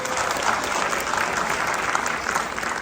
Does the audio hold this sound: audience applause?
yes